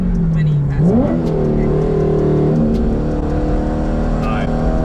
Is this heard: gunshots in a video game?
no